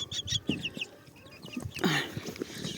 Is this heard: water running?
no